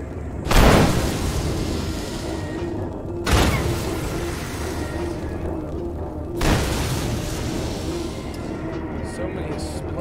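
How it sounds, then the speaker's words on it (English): Three heavy booms burst out a few seconds apart in the video game Oddworld: Soulstorm, each a loud broadband blast fading into a rumbling background. "So many explosions."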